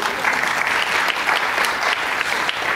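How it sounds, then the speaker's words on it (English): Audience applause at a city tribute event honoring Rev. Dr. Martin Luther King Jr., a steady, dense clapping from a large crowd filling the room without pause. "I'm sure that we all, you can applaud."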